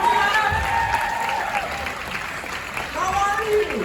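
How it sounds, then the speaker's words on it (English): A cruise ship audience applauding at a comedy magic show, sustained dense clapping that carries on steadily while someone speaks over it. "Yeah, keep applauding because this is going to be fun."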